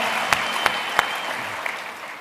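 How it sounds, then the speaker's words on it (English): Seminar audience gives a round of applause, a dense steady clapping wash with a few sharp nearby claps early on, moderately loud and continuing throughout. "But Nikolai, give him a round of applause."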